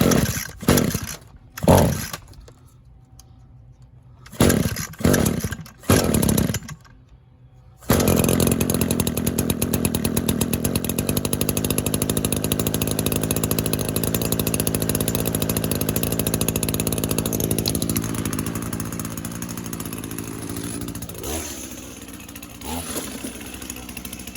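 An Echo string trimmer's two-stroke engine sputters through a few brief bursts, then catches and runs at a loud, steady buzzing idle, dropping somewhat lower toward the end.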